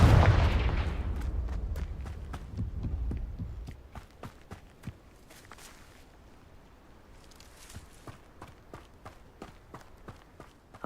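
Repeated Confringo fire-spell explosions in Hogwarts Legacy: a heavy boom at the start, then a string of sharp, spaced blasts and thuds of varying loudness, with no talking.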